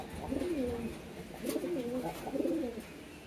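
Pigeons coo in courtship as a male pursues a female, giving three clear rolling coo phrases close by with short pauses between them.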